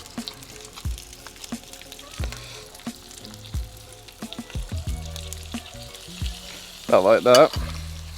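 Flour is stirred into hot bacon grease for a roux, sizzling and crackling with repeated scraping knocks of a utensil against the pan and a brief louder bubbling burst near the end. A voice speaks briefly.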